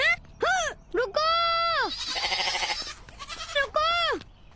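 A goat bleats several times in loud, close, wavering cries separated by short pauses, with a longer raspy call in the middle.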